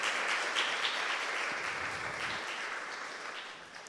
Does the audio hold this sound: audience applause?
yes